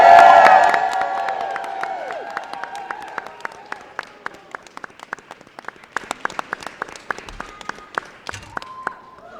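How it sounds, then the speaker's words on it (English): Audience applause at a press conference for a bill signing: loud clapping and some cheering fade over the first seconds, then scattered individual claps continue sparsely to the end. "Give a round of applause for everybody on their hard work on this legislation bill"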